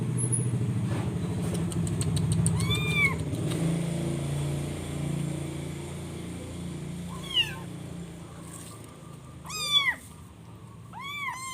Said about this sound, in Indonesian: Senggol kucing.